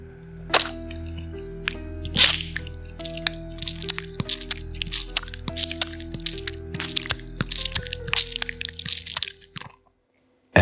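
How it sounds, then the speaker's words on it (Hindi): Messy chewing sound effect, a dense run of wet crunching and cracking bites at close range, irregular and fairly loud, before it cuts off near the end. "ऐसे जैसे किसी चीज को कोई खा रहा हो, पर बहुत बुरी तरीके से।"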